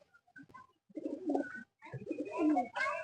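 A black pigeon cooing up close, a series of soft throaty coos rising and swelling in bursts, loud and clear with brief pauses between.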